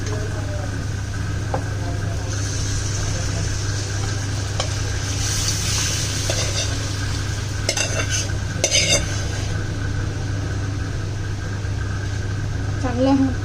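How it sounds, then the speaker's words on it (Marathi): Mutton sautéed in a pan, a steady hiss under a constant low hum with occasional scraping stirs, close; a voice speaks briefly near the end. "चांगलं परतून घ्या."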